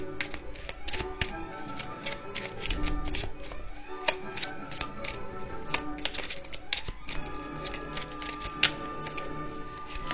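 Tarot cards being shuffled and drawn, giving a dense run of quick papery riffles and flicks with scattered sharper snaps, steady and close throughout.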